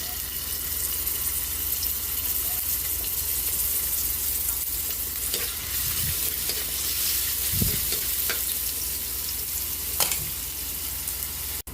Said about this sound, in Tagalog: Magigisa na po tayo ng bawang sibuyas para sa ating ginisang ampalaya.